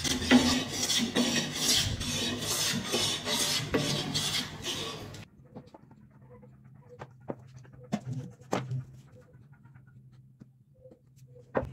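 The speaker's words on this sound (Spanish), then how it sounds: "Con la ayuda de un cepillo, vamos perfilando la pata para que nos quede recta." A hand plane shapes a wooden table leg straight in a carpentry workshop, making quick, loud rasping strokes in a steady rhythm for about five seconds, followed by quieter scattered knocks and clicks.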